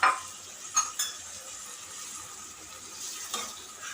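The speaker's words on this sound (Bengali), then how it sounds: "এবার একটু নেড়ে ছেড়ে আমি একটু মশলার সাথে মিক্স করে নিব" Chicken feet stirred with spices in a pan for a spicy bhuna dish, heard as a soft, even frying hiss broken by a few light clinks and scrapes of the spatula.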